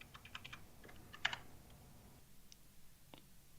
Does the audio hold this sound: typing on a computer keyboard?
yes